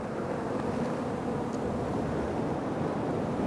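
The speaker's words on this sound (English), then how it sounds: "Now we got the wind picking up, so now we'll be testing our mic system here" Outdoor wind rumbles and buffets a microphone near a beehive, a continuous dense broadband roar holding steady throughout with no talking.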